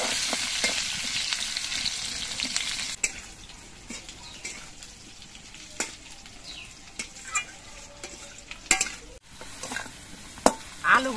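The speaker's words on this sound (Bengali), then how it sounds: "এবার আলুগুলো আমি বেশ কিছুক্ষণ ভেজে নেব।" Potatoes fry for a long stretch in a hot pan for a light fish curry, making a continuous crackling sizzle with scattered scraping and clacking stirs that grow louder toward the end.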